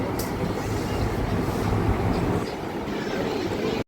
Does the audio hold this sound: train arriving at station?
yes